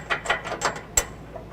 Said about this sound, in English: Once you have the bolt in, you'll be able to tighten it down to help hold the hitch up into place.